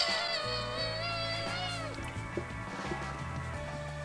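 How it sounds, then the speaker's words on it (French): A cat meows indoors in a busy family home, a drawn-out, wavering cry heard fairly faintly over steady household background noise. "j'avais pas vu le chat"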